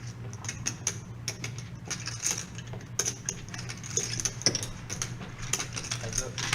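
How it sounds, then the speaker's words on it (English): Poker chips are shuffled and clacked at a $1/$3 no-limit hold'em table, giving rapid, close, bright clicks in quick bursts over a low room hum, with people talking faintly in the background. "Hear those chippy chips shuffling?"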